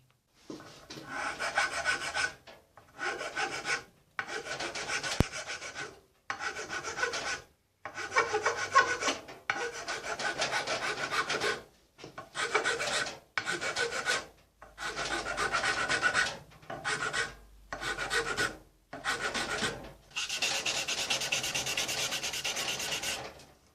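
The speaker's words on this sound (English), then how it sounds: "So what we'll do is go ahead and finish this edge. What we're going to do is just put a taper in it." A file is drawn back and forth across the edge of a small utility knife to put in a taper, with rhythmic rasping strokes in bursts separated by short pauses, close and steady.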